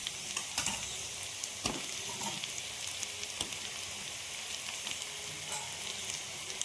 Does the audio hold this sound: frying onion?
yes